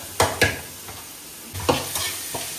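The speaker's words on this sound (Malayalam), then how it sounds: "സവാള ഇട്ടു ഒന്ന് നമ്മൾ തോക്കട്ടെ" Onions for a spicy fish curry sizzling as they sauté, with several sharp scrapes of a spoon stirring the pan over a faint frying hiss, close up and without speech.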